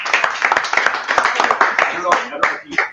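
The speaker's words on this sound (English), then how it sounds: "Another little round of applause." A small group claps at a launch block party, a loose, uneven patter of handclaps mixed with voices talking and chattering nearby.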